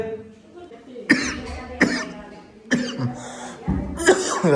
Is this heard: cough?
yes